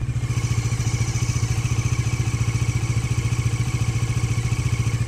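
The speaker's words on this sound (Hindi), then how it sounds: "अभी बाइक स्टार्ट हुई है क्योंकि अभी क्या है कोल्ड स्टार्ट हुई है ठीक है तो इंजन की आवाज़ सुन लो" A Bajaj Dominar 400 motorcycle engine idles right after a cold start, a steady, close, rapid low thudding pulse with a mechanical clatter that stays even throughout, no voices.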